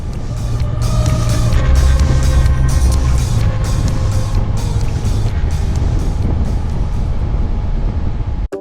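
Loud, close outboard motor droning steadily as a 5-metre rigid inflatable boat runs over water, with wind buffeting throughout until an abrupt cut.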